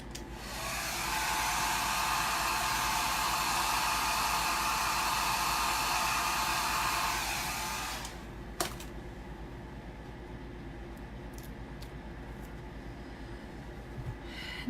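A hair dryer blows with a loud, steady whir for about eight seconds, then cuts off. A sharp click follows, and faint small handling sounds continue in a quiet room.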